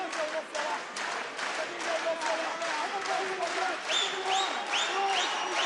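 A crowd at a CWFC Fight Night MMA bout makes steady background noise with rising shouts and whistles, roaring under the commentators' continuous talk.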